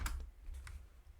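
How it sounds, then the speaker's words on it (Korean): Computer keys are pressed while running an Oracle RMAN database clone, a handful of faint, soft clicks over a low background hum, with no speech. "컨트롤 C 눌러서"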